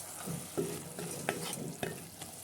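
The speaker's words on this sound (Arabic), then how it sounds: "والعطريه ديال الكبسه معلقه كبيره، وغادي نخلطوا جميع المكونات" A spoon stirs kabsa spices and other ingredients in a pot over gentle heat, a soft sizzle running underneath as a few distinct scrapes and knocks of the utensil sound up close.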